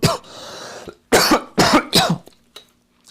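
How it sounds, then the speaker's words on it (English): A person coughs hard several times in a row beside an electronics repair bench, starting with one long rasping cough, then three sharp bursts and a faint final hack. "Sorry, my cough is so bad."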